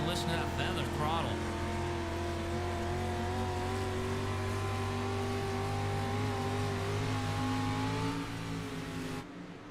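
Race car engines working through laps of a money race: a sustained, droning engine tone with slight rises and dips in pitch as the throttle is feathered, steady and fairly loud throughout.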